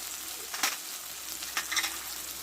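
Ginger, onion paste and tomato frying with ground spices for a small-fish curry with potato, brinjal and lentil dumplings, giving a soft continuous sizzle close by with a few brief scraping stirs.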